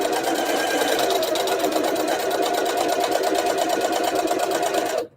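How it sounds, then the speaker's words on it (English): A sewing machine stitches steadily along a fabric edge, a fast even mechanical whir and rapid needle clatter running continuously for about five seconds before stopping abruptly. "Just going to sew along this whole edge."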